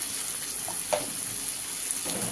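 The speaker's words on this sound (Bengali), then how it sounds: "এবার আমি আস্তে আস্তে এটা কষে নিয়ে ঝোল দিয়ে দেবো।" Prawn (chingri) masala, sweetened with a little sugar and cooked with kochu, sautés in a pan with a quiet, continuous sizzle and a few soft stirring scrapes.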